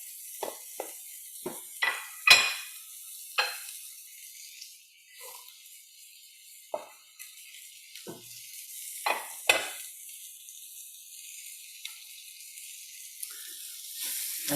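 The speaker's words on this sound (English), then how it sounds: "I'm going to stir this around" Vegetables being stirred in a hot pan for biryani, with a steady soft sizzle and a series of sharp utensil scrapes and clinks against the pan at irregular intervals, and no voices.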